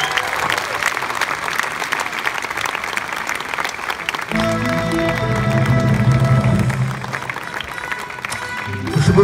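Loud applause from an audience at a film premiere in Uzbekistan, sustained dense clapping with a crowd roar building partway through and lasting to the end.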